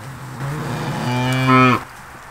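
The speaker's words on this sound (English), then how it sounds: "you hear her mooing for the baby? It's a real deep mama moo." A Pineywoods cow on a family farm calls for her calf with one deep, drawn-out moo that rises in strength, loud and close, then cuts off abruptly.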